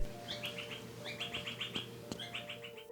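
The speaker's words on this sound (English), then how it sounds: "Can you guys hear the birds?" Small birds chirping outdoors, heard from inside a room: repeated quick bursts of high tweets in short phrases, fairly faint and distant over a quiet background, with an occasional soft click nearby.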